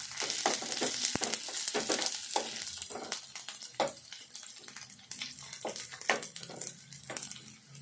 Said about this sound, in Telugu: ఈ ఉల్లిగడ్డ ముక్కలు వేపుకోవాలి లైట్గా